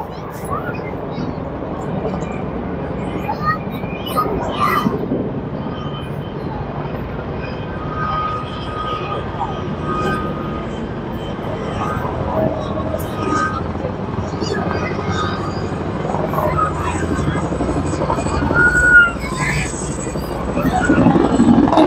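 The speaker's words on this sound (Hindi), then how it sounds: "आपको आवाज आ रही होगी हेलीकॉप्टर की" Constant loud rotor roar of a helicopter overhead at a Singapore National Day Parade rehearsal, with a crowd's noise and talking mixed in throughout.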